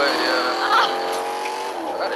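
A pizza delivery car in Fortnite drives along with a steady engine drone and tonal whine that rises slightly, fairly loud, while players talk over it.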